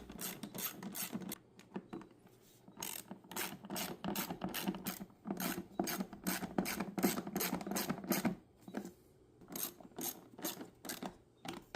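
A hand ratchet clicks in rapid bursts while driving the small screws around a 1997–2001 Jeep Cherokee XJ HVAC box, with brief pauses between screws; close, steady and without talk.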